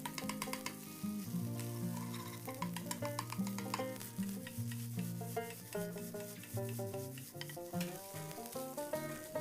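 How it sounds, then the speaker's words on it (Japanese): Rice and egg stir-fried together in a pan for cup-noodle fried rice, giving a steady sizzle with quick scraping and stirring strokes, partly masked by louder background music throughout. "ある程度ご飯と卵が炒めたら"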